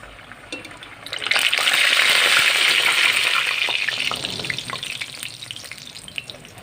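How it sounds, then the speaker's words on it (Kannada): Ragi puri is dropped into hot oil: a bright, hissing sizzle swells suddenly, holds strongly for a few seconds, then eases into a lighter crackle, close up with no voices. "ಒತ್ತಿಕೊಂಡಿರುವಂತಹ ಪೂರಿನ ರಾಗಿ ಪೂರಿನ ಎಣ್ಣೆಲಿ ಬಿಡ್ತಾ ಇದ್ದೇನೆ ನೋಡಿ"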